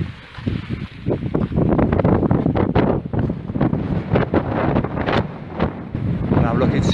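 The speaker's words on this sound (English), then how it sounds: "it's very windy" Strong wind buffets the microphone in heavy, continuous gusts near mountains by a lake, a loud rumbling roar with no talking.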